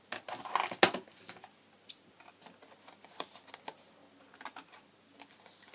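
Scissors cutting along score lines on craft card stock for a box, a string of small crisp snips and paper rustles, close and quiet with uneven pauses between cuts and no talk.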